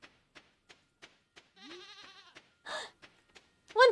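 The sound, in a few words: goats bleating in Stardew Valley video game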